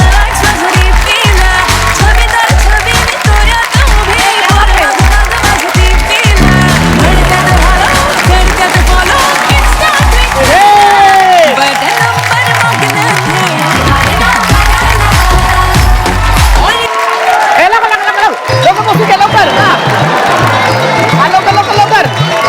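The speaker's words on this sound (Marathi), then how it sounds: "त्या माझं एकदा जोरदार टाळ्या होऊन जाऊ देत." An audience at a Marathi television stage show claps and cheers loudly and continuously, with rhythmic music playing over the crowd noise throughout.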